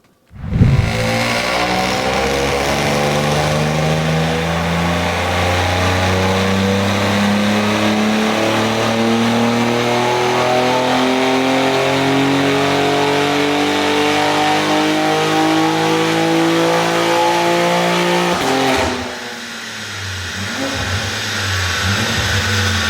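A tuned BMW G80 M3 engine revs hard on a dyno, rising in a long loud continuous sweep for nearly twenty seconds before backing off abruptly and settling into a lower idle-like drone.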